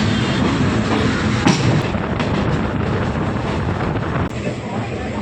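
Parasuram Express train pulling into Neyyattinkara station at night, a loud continuous rumble and clatter of wheels and carriages with a couple of sharp knocks, heard from inside the train.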